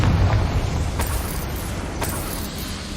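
A Confringo fire spell explodes with a deep, rumbling roar in Hogwarts Legacy, set in a goblin mine. Loud low boom that stays sustained throughout, with sharp bursts near one and two seconds.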